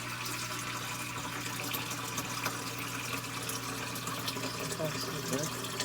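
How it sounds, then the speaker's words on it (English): Water gushes through an opened valve into an aquarium sump, a steady rushing pour with faint gurgles, fairly quiet and continuous, with a voice speaking briefly over it. "We're going to open up this valve here and fill our sump."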